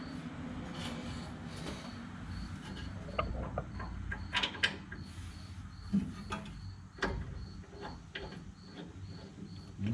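A bolt is threaded in by hand on the rear brake of an F150, giving close, scattered metallic ticks, scrapes and taps over a quiet background, with no talk.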